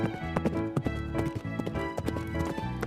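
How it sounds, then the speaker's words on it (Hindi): A ridden horse travelling toward a village clip-clops in a brisk, steady rhythm of crisp hoofbeats, close and clear over a tonal musical backdrop. "घोड़े के पीठ पर सवार होकर मधुमती आप पहुंचती है एक और गांव में।"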